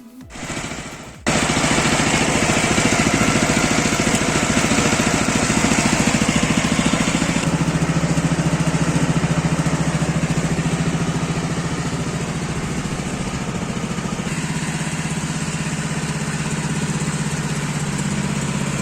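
A mini tractor engine idles steadily with a throbbing, mid-pitched rumble after a brief start, running on and on close by with no voices.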